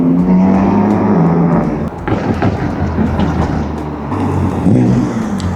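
A BMW M4 Competition pulls up nearby, its engine rumbling loudly with rising revs and throttle blips and a gear-change dip midway, the sound growing fuller as the car draws closer.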